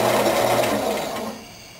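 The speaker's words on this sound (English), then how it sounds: "I just sharpened that Forstner bit. It's really throwing the shavings out." Sharpened Forstner bit boring into apple burl on a wood lathe spinning around 2,000 RPM, a steady loud whirring cut with a tonal hum that eases off and thins out near the end.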